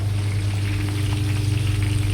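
Steady, close sizzling of fish frying in hot oil aboard a ship, a continuous crackling hiss with a low hum underneath.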